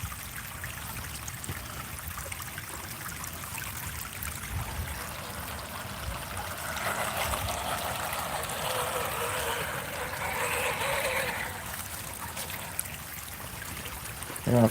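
A creek runs over solid rock in a steady, continuous rushing babble that swells slightly midway, heard close by for the whole stretch.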